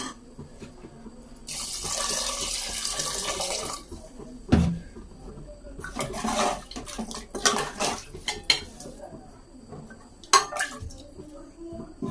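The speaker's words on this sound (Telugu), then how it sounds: "ముక్క మునిగానే నీళ్ళు పోస్తే సరిపోతుంది" Water rushes steadily into a pot of chicken curry for a couple of seconds, followed by clinking of metal utensils and pans, with a voice speaking at times.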